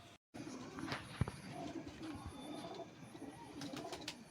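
Pigeons cooing on a rooftop where pet pigeons are kept, soft low coos repeating under faint shuffling steps and handling noises, fairly quiet and close.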